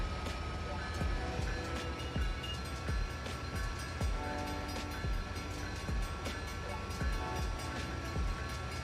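A train in the Roblox-style railway game RO-Scale rolls along with a steady low rumble and evenly spaced wheel clacks on the rail joints, loud and continuous throughout.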